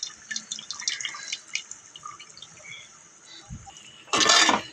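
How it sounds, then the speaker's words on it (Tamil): Scattered drips and small splashes, then a short, louder rush of tamarind water being poured into a pot of fish curry near the end. "புளி கரைசலை வந்து நம்ம ஊற்றிட்டோம்"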